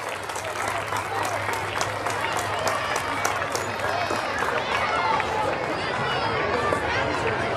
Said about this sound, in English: Give another round of applause for our winners.